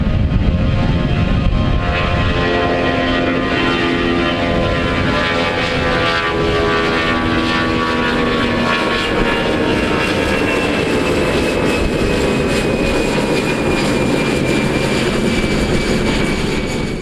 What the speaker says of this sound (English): Air Canada finally retired the last of the mainline Airbus A319s, and the very last one in the country left Calgary for Kansas City on February 8th.